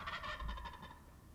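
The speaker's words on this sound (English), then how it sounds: "and then we heard him gobble." A wild turkey gobbles once in the spring woods, a short rattling call that is faint and distant.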